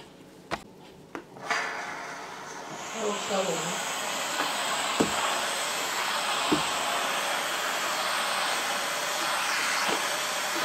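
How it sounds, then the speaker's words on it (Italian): A Cecotec Hydrosteam 1040 steam vacuum releases steam onto a floor, a steady broad hiss that starts after a few clicks and runs continuously, with a couple of faint knocks along the way. "vi faccio vedere invece come lava a terra con il vapore"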